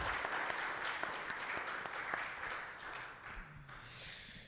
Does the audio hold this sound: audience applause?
yes